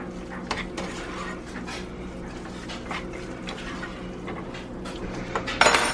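A spoon scrapes and clinks against a pot as cheddar cheese is stirred into tuna mac and cheese, soft irregular metallic taps and sticky stirring sounds, with a brighter clatter near the end.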